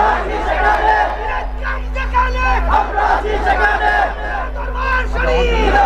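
A crowd at an Islamic waz mahfil gathering roars a takbir slogan, a loud sustained mass of voices chanting and shouting together throughout, close and full.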